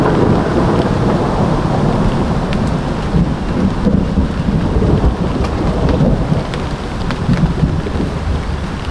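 A thunderstorm fills the scene with steady heavy rain and deep rolling thunder, loud and continuous with no voices.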